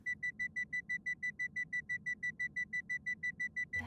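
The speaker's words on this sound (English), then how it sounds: "I don't like that beeping." Electronic beeping from the film 2001: A Space Odyssey: a steady, rapid run of about twenty identical bright beeps at an even rhythm, heard alone over a low rumble.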